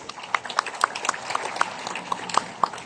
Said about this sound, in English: can we give Riway a big round of applause?